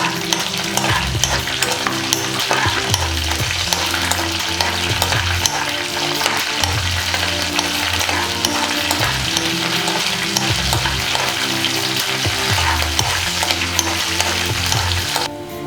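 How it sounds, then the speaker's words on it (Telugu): Curry leaves fry in hot oil for tamarind rice while being stirred. A loud, steady sizzle runs under rhythmic scraping strokes of a spoon against the pan, close up and continuous. "నేను వేపు కూరని వేసుకుంటున్నాను. దీన్ని కొంచెం ఫ్రై అవ్వనిద్దాం"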